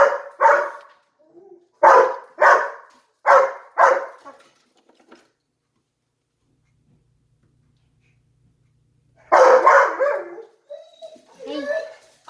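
Ollie the dog barks in a crafting room: two sharp barks, then a rapid run of four, a pause, and a final cluster of barks with whimpery yips, close and loud.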